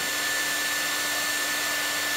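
A Panasonic EH-NA45 hair dryer blows steadily at close range, a constant loud whoosh of air with a thin motor whine running through it.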